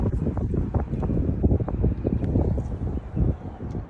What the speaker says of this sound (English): That was a 20 mile an hour gust.